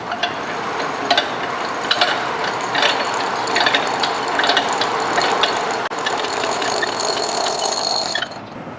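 A fire hose is wound counterclockwise onto a wildland hose roller, giving a steady ratcheting, clicking mechanical rattle with scraping that runs continuously close by and stops near the end.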